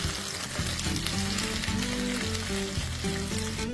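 Chicken barbecue cooking down in a pan until the sauce dries, a continuous crackling sizzle under a steady tonal background sound, no talk.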